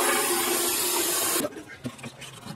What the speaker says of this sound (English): I'll take that and fill it halfway up with water.